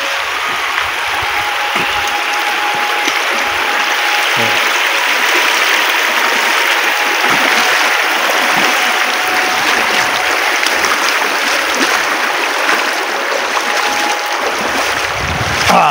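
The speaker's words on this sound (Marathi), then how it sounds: "चला निघूया, पाण्यातून जाऊया आपण" Walking through a flowing stream outdoors, with a steady, loud rush of moving water and wind-like hiss running continuously throughout, and no distinct separate splashes standing out.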